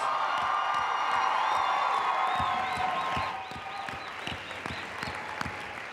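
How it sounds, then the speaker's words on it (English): A school crowd at the Mr. Wayzata 2018 pageant bursts into loud applause with cheers and whoops for the performers, dense clapping that tapers after a few seconds while a high whistle-like cheer rises above it. "Let's give them one last big round of applause, please."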